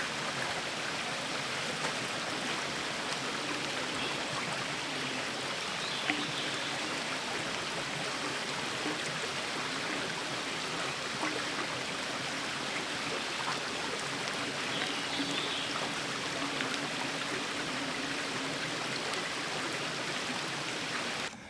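Steady, full rushing of a flowing river at a campsite, loud and unbroken throughout with no voices, a dense even wash of water noise.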